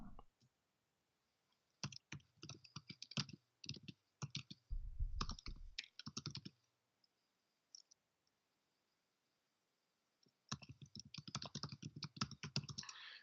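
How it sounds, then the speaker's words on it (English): Keystrokes on a computer keyboard while someone codes in Visual Studio: quick clattering bursts of typing separated by silent pauses, close and clear, with no voices. "he's typing into my Visual Studio"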